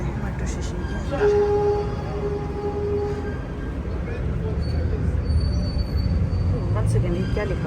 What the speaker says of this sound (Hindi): अभी चलते हैं मेट्रो स्टेशन के अंदर।